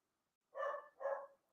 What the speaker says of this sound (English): if you hear my dogs, I apologize for that